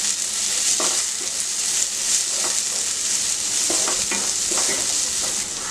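Onion and tomato sauté in a pan over a full flame, a constant bright sizzle with intermittent scraping stirs of a spoon, close and fairly loud, with no talking.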